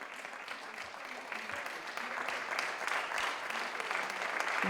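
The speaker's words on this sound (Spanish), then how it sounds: "Y comenzaban entonces los aplausos desde los balcones, desde las ventanas, un reconocimiento sanitario." Neighbours applauding health workers from balconies and windows: steady, dense clapping from many people across a street, sustained without pause and slightly distant.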